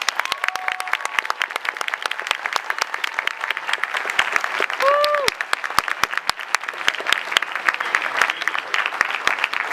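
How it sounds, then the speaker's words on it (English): Applause from a comic-con panel audience at Wizard World Sacramento, sustained crowd clapping with sharp individual claps standing out, heard at moderate distance with a couple of brief whistles or cheers mixed in. "Big round of applause, please."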